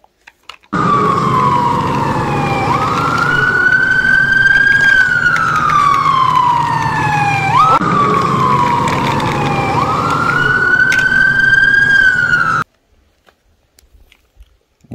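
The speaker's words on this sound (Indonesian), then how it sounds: "Ada mobil pemadam kebakaran." A fire truck siren wails in two long rising and falling sweeps, loud and steady for most of the clip before cutting off into silence.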